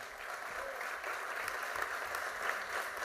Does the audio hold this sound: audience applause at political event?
yes